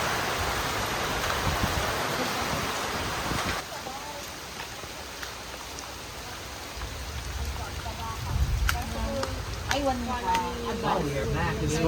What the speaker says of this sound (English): This fucking rain is nuts.